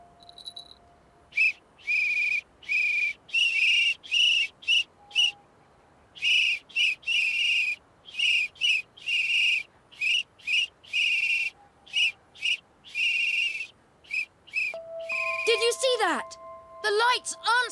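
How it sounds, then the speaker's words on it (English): Repeated short whistle blasts in a children's winter cartoon, a rhythmic series of bright tweets blown one after another, fairly loud and close, ending with a brief swooping tone. "I've got my whistle."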